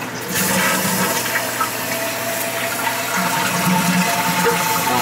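A second floor toilet flushing, a continuous loud rush of water swirling and draining close by, steady throughout the short stretch with no speech.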